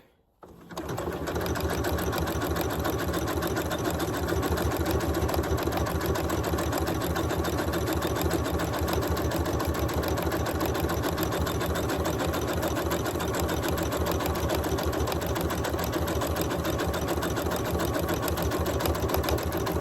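Sewing machine stitching sample stitches on scrap fabric, starting up and running steadily at a fast, even mechanical rhythm for the whole stretch, close and alone.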